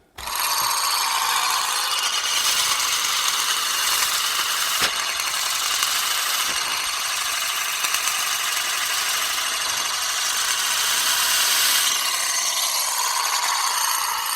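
Ball bearings spun on the flat side of an old prototype spinning device, giving a steady, bright whirring hiss that holds loud and even for the whole stretch with no talk.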